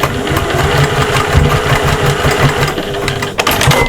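Sewing machine top stitching along a zip on a fabric cross-body bag, a loud, continuous mechanical whirring hum with a rapid rhythmic patter, running steadily close by with no voices.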